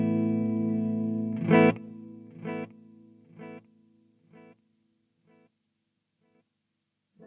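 An electric guitar chord played through a Marshall MG50CFX amp with its hi-fi delay, the sound cutting off into a clean series of repeats that fade steadily over several seconds, with no talking.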